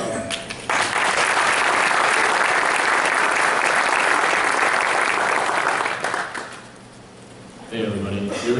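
Sustained audience applause greets collecting-track panelists at Star Wars Celebration Anaheim, a dense roomful of clapping that holds steady for several seconds, then thins and fades before voices return.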